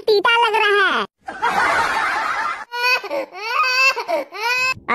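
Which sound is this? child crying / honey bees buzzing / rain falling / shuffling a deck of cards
child crying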